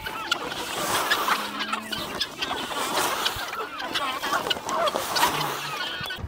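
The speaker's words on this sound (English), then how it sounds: "I like coming down here feeding the chickens first in the morning" Chickens cluck and chatter continuously at close range during morning feeding, overlapping calls with a few sharper squawks throughout.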